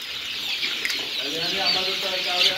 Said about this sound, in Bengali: আরও আছে 45 দিন বয়সী ফার্মি মুরগি